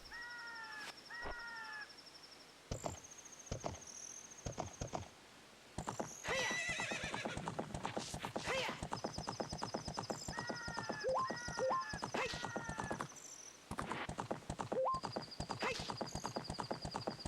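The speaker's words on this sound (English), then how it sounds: "Come on, horse." A horse in the Ocarina of Time video game gallops with a rapid, steady clip-clop of hooves and lets out several shrill whinnies, each neigh cutting in over the hoofbeats.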